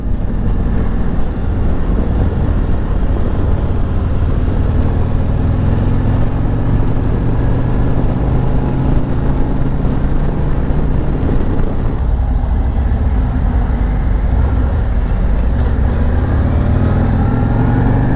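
A Harley-Davidson motorcycle ridden through the Valley of Fire: a loud, steady engine drone mixed with wind rush, continuous throughout with no distinct gear changes standing out.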